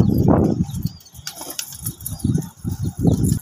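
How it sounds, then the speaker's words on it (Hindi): Pigeons being let loose burst into a loud, close flurry of flapping wings that sweeps off and then returns in rapid fluttering pulses. "ये कबूतर खोल लें।"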